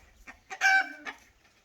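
Indoor chickens, with a rooster among them, give a few scattered clucks and then one loud, strained crow close by, in a room with no talking.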